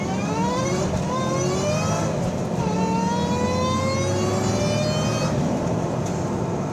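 A 2003 Ford Mustang Cobra accelerates hard in first gear, its engine note climbing steadily in a long rising whine and roar, heard loud from close by, with a brief dip before it climbs again.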